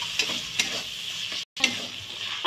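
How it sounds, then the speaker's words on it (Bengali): Chopped tomatoes sizzle in hot oil with fried onion and ginger paste, a steady close frying hiss broken by a few spoon scrapes and knocks as the pan is stirred, with one brief cut near the middle. "এবার টমেটো কুচিটা দিয়ে দিচ্ছি"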